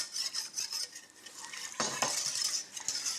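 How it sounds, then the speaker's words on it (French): A utensil scrapes a starch and sugar mixture from the sides of a saucepan, close, soft grating strokes and scratchy drags against the metal in an uneven rhythm, with no talking. "il faut bien les racler sur les côtés"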